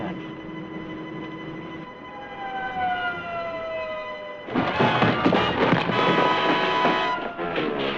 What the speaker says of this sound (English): Turn on your siren.